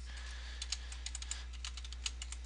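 Password being typed on a computer keyboard, a quick irregular run of light key clicks, close and quiet over a steady low hum.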